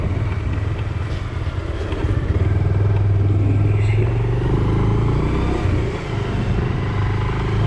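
Motorcycle engine running steadily on a city street while riding slowly in search of a parking spot, with a louder surging stretch in the middle and traffic noise around.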